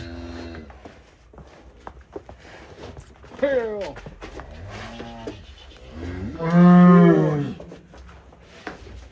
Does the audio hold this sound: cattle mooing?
yes